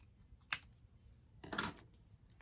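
Scissors snip a paper craft piece for a Stampin' Up! wooden Halloween house, one crisp close cut followed by a longer rustling snip, quiet and alone.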